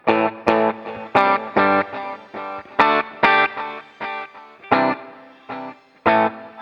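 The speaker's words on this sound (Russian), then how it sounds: "Там дилей, шиммер еще." Electric guitar played through a preset with delay and shimmer on a NUX Mighty Space combo amp: clean chords struck in a steady rhythm, each ringing out with repeating echoes and a bright, airy tail.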